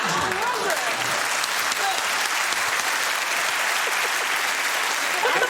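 A studio audience on a comedy panel show cheers and applauds loudly and continuously, a dense crowd roar that holds steady throughout.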